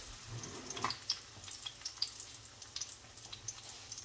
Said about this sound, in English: it's getting a nice little sizzle going there